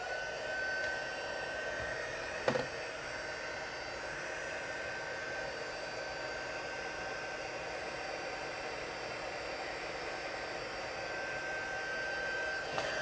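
An embossing heat tool blows hot air in a steady, loud whooshing roar that holds unbroken throughout, with a single brief knock early on and no talking.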